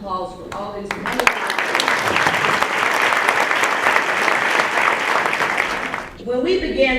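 Thick, steady applause from an audience at an awards ceremony rolls on for about five seconds, framed by a speaker's voice before it starts and after it fades.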